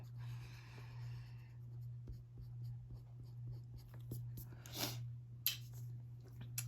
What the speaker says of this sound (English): So I'm gonna erase.